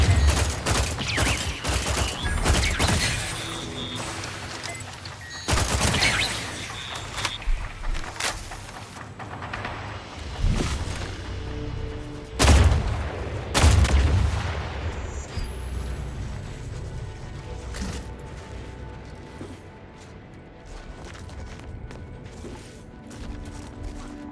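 Gunfire in The Outer Worlds 2 rattles out as bursts of loud, sharp shots and impacts, clustered in volleys with quieter stretches between, mechanical clanks and a steady hum underneath.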